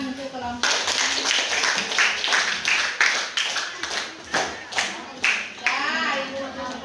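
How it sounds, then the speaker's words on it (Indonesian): A class of students clapping for a group of classmates in a school lesson, a dense burst of hand claps that pulses and fades, with brief talk at the start and muffled voices between claps. "kita kasih tepuk tangan untuk kelompok"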